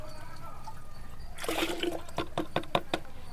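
Rainwater poured into a pasty fermented rice mixture for a garden plant feed, a splashy gush of liquid that starts abruptly midway and continues with a few sharper splashes, close by and alone.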